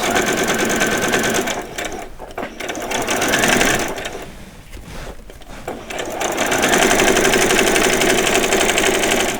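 Sewing machine stitching a seam on vet scrubs, running in steady loud bursts with two short pauses before the stitching resumes, mechanical and close, with no talking.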